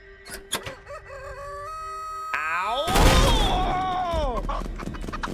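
Chickens in a video game give a loud, drawn-out crow with rising and falling pitch, preceded by a few short clucks and calls, with no talking.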